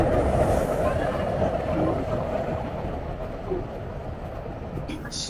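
Inside a Tokyo commuter train travelling from Gotanda toward Ueno, a steady low rumble of wheels and carriage fills the scene, with a brief faint chime near the end.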